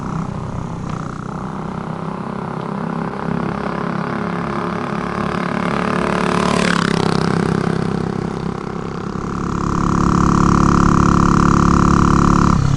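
A 1967 Harley-Davidson H Sprint 250 motorcycle engine drones steadily while riding, its pitch rising and falling with throttle changes and growing louder toward the end.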